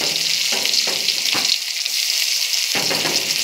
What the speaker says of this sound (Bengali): पेঁয়াজ कुचि देওয়ার পরে একটু নাড়াচাড়া করছি